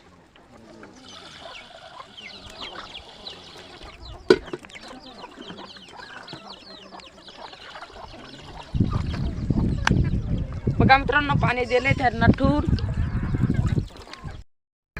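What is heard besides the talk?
chickens clucking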